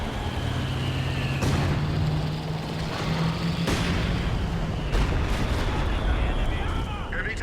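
Artillery shells fire in a Company of Heroes 2 match, deep booming thuds and rumbles rolling under steady battle noise with several heavy impacts spread across the scene, while a commentator talks over it.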